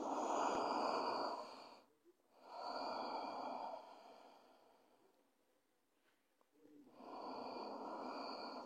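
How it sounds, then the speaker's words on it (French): Slow, soft breaths drawn and released through the nose during a gentle evening hatha yoga session, two long airy exhales separated by quiet pauses, close and calm with no talking. "Essayez d'expirer par le nez en relâchant la tête."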